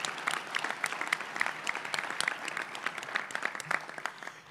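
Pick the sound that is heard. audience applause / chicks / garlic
audience applause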